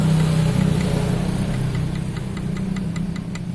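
Honda Genio scooter engine running with a rough, rattling knock: a close, steady mechanical drone with rapid metallic ticking that grows more distinct toward the end.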